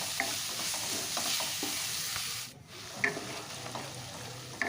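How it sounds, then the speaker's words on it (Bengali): Turmeric and Kashmiri chilli powder masala fries in a pan while a spatula scrapes and stirs in repeated strokes over a close, steady sizzle, with a brief lull midway. "দিয়ে একটু কষিয়ে নিচ্ছি"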